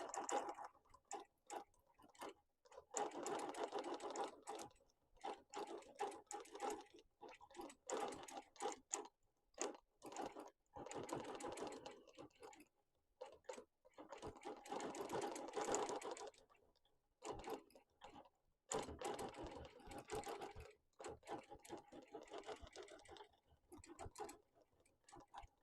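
A domestic sewing machine free-motion quilting letters runs in several bursts of rapid stitching, separated by brief pauses while the fabric is repositioned, fairly quiet and close.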